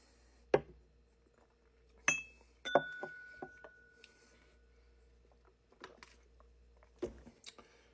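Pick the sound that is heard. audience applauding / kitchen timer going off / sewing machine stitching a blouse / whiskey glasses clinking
whiskey glasses clinking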